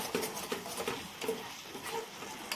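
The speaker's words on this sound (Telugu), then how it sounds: "చక్కెర పాకం మొత్తం కరిగిపోయే వరకు ఇట్లా కలుపుతూనే ఉండాలి." Sugar syrup melting in a pan as a spoon stirs it, giving soft, repeated scraping and light clinking strokes at a steady pace, faint and close with a gentle sizzle beneath.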